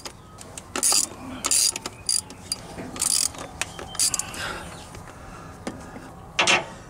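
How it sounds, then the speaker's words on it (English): A ratchet fitted with a 10 mm socket loosens the throttle body bolts on a Jeep Wrangler YJ, giving close, rapid clicking bursts in short repeated runs with brief pauses between strokes. "Now as you break the bolts loose, go around it."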